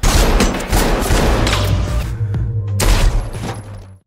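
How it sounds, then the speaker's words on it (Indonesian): Gunshots in an action film shootout, a dense loud burst of rapid overlapping shots and booms, a brief lull, then another volley before it cuts off. "Namun saat akan menembak, tiba-tiba Dennis menembak Playa dari belakang."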